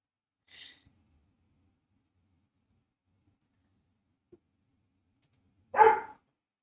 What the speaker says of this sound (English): All right, Cuz barking again.